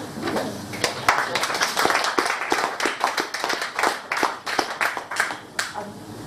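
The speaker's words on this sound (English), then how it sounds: "I'm very happy if you keep the applause till the end, as long as you clap at the end" Audience at a poetry reading clapping steadily, a dense patter of many hands with irregular sharper claps standing out, moderately loud throughout.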